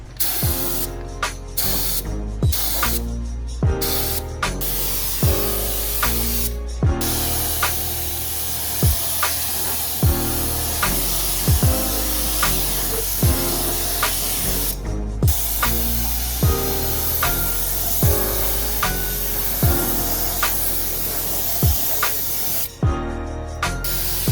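A spray gun fitted with an aluminum cup lays down a first coat of primer, producing loud, close hissing bursts repeated with short pauses between passes.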